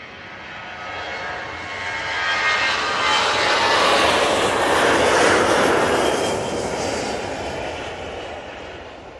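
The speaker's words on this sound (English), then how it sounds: "The 737-800." A Boeing 737-800 jet airliner at Manchester Airport roars past, its broadband engine noise swelling from moderate to loud near the middle and then easing slightly as it moves on, with no talking.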